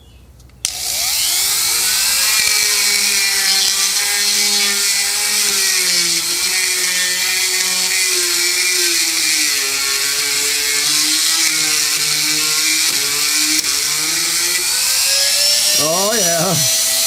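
A coarse abrasive bit on a rotary tool grinds steadily on a part from a 1960s Tecumseh 6hp lawn tractor engine, a loud, high, continuous whine with a shifting pitch that lasts throughout and winds down at the end.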